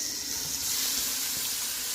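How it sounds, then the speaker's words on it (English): Chicken feet sizzle steadily in a hot pot for Jamaican-style curry, a close, constant hiss of frying without pauses or talk. "See that sizzling?"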